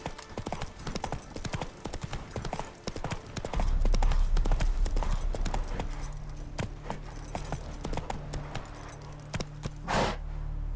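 Geralt's horse Roach in The Witcher 3 trots along with steady, rhythmic hoof clip-clops and jangling tack, loud and close, joined by a low rumbling ground noise partway through and a brief whoosh near the end.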